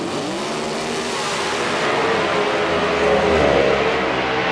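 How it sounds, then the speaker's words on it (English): A nostalgia drag car from Raceland, its 397 cubic inch alcohol-burning small-block engine roaring loud and steady, the sound swelling slightly toward the end. "The A Nostalgia car out of Raceland, right down the street. A 397 cubic inch alcohol burning small block."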